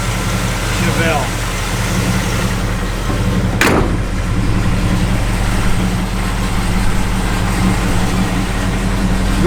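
A 1971 Chevrolet Chevelle SS idles with a steady, even low rumble throughout, while people talk over the engine and a brief click-like sound cuts in midway.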